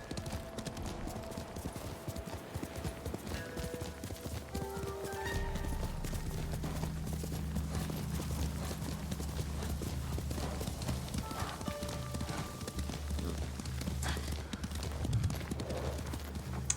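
Horse hooves clip-clop in a steady, rhythmic walk for several seconds, with a brief whinny and occasional quiet voices talking underneath.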